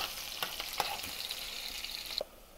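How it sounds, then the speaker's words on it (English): Onion fries in hot oil in a pan for green rice, a steady close hiss of sizzling broken by a few light stirring clicks, which drops away sharply near the end. "So our oil is hot. Now let's add onion first."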